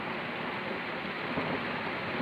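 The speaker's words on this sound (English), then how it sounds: "And this rain keeps getting heavier and heavier." Heavy rain pours steadily in a constant dense hiss outdoors during a thunderstorm in Northern Ireland, with no clear thunder rumble and no talk.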